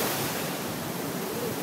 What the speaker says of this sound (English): This is the Indian Ocean.